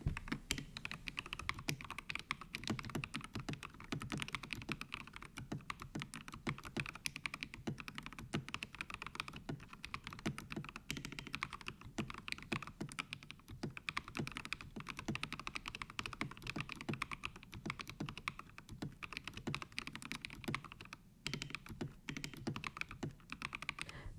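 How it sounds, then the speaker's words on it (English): Mechanical keyboard fitted with Akko cream yellow switches and GAMAKAY astronaut-themed keycaps, typed on steadily with dense, rapid, close clacking keystrokes throughout, no voices. "Here's a quick sound test of this keyboard."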